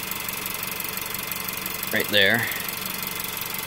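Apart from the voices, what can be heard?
car engine running, picked up by piezo mic on engine mount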